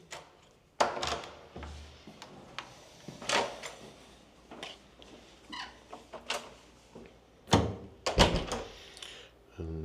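A hotel room door in Benidorm unlocked with a key card: a series of thunks, clicks and handle clunks, some sharp louder knocks, spread over several seconds with faint background sound.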